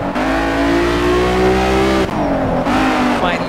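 A 1975 BMW 3.0 CSL racing around the Hockenheim circuit in the racing game Shift 2 Unleashed, its engine loud and close, holding a steady high rev, then dropping sharply on a gear change and climbing again.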